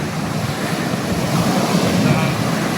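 Steady sea surf rolling onto Candolim beach in Goa, a continuous broadband wash of breaking waves with wind noise, loud and close, with no pauses and no one speaking.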